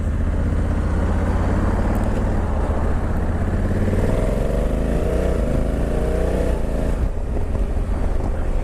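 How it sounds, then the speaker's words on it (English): A Honda Africa Twin Adventure Sport DCT motorcycle of about 1084cc pulls away, its engine note rising smoothly through a climbing whine under steady wind rush, close and continuous. "You can certainly feel that extra horsepower when you pull away."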